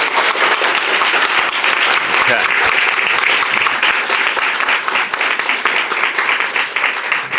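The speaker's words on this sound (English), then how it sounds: "give them a big round of applause right now" Loud, continuous crowd applause throughout, many hands clapping at once, with a brief voice underneath.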